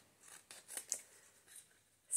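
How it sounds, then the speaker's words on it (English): Scissors cut paper for a paint sample card tag, giving a series of soft, quiet snips and rustles close by, ending in one louder crisp snip. "And just go ahead and cut it out with your scissors."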